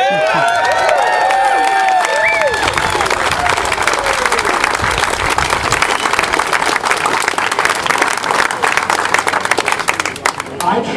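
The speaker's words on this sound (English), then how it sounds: "The hope is hearing the applause out here" Applause and cheering break out at an outdoor political picnic in New Hampshire, a crowd clapping steadily for several seconds after loud shouts and whoops, with voices mixed into the open-air din.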